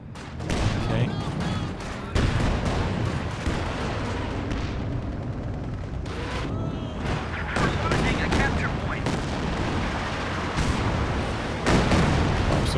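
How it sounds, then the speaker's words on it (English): Creeping artillery barrage in the game Company of Heroes 2, a dense run of booming shell impacts and rumbling blasts that continues throughout, loud and chaotic with voices talking over it. "Creeping barrages, very good."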